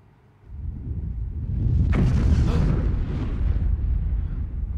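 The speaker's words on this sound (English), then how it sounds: "You hear a thunderous explosion." A thunderous explosion erupts after a quiet moment, building into a deep, loud rumbling roar that sustains and rolls on for several seconds.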